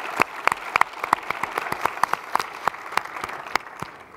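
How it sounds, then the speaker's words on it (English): Applause from a space symposium audience honouring a foundation team, a thin, scattered patter of individual claps with distinct sharp hits, moderately close and without voices. "give them a special round of applause for all their hard work"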